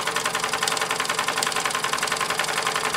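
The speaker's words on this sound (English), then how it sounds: "Obviously the engine is a little bit more running, and it's running a lot freer." Mamod SP8 "James Watt" model stationary steam engine running freely on very little steam, a fast, even mechanical chuffing and clatter, close and loud, with no talking.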